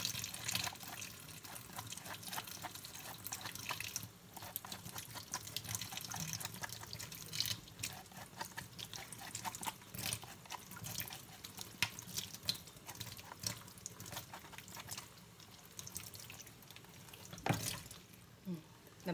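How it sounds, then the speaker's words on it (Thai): Boiled mushrooms being rinsed in water, with a steady splashing and trickling like running tap water into a sink, close by and fairly faint, with a few louder splashes and no talking. "ค่อยเอามาล้างน้ำอีกเทื่อนึง"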